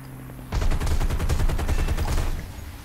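Tank cannon and machine-gun fire in the War Thunder video game, a sudden loud onset followed by a rapid, rhythmic burst of shots lasting about two seconds, close and dominant before fading.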